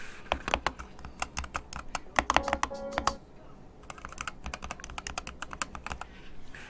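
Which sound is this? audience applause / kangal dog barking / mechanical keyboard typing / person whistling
mechanical keyboard typing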